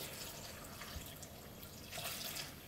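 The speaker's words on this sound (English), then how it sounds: "So I'm going to put the water in." Water pours steadily into a pressure cooker with a continuous hissing splash, close and fairly loud, swelling slightly near the end.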